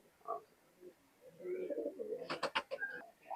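Pakistani high flying pigeons coo softly in a loft, a few low murmuring calls close by, followed by a brief burst of sharp fluttering or clattering near the end.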